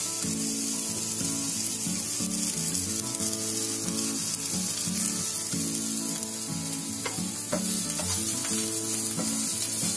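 Crushed, torn curry leaves sizzling in hot oil for vada pav chutney, a continuous loud frying hiss with faint background tones throughout and no voices.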